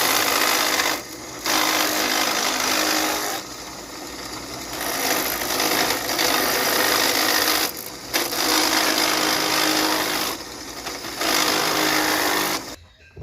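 A wooden arched door moulding is sanded by hand in long, steady abrasive strokes, close and continuous with only brief pauses.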